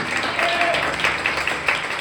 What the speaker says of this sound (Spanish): Quiero que todos puedan aplaudir.